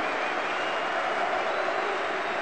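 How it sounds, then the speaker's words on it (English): A stadium crowd applauds a football player being substituted off during an Olympiakos versus Benfica match, a steady dense wash of clapping and murmur from a large crowd with no pauses. "And he'll get a nice round of applause."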